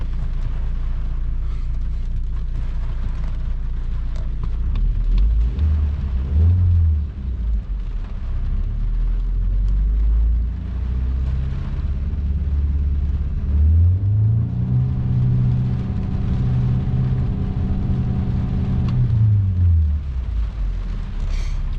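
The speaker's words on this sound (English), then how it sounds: "I think it has a rev limiter in neutral." A parked MK5 VW Golf with fault code P2293 (fuel pressure regulator) idles with a low rumble, then revs up twice, the engine note climbing, holding and falling back each time, loud and close.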